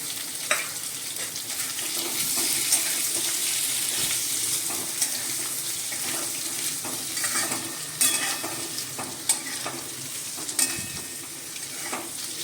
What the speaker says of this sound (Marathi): तर आपण तो आता तेलामध्ये परतून घेऊया।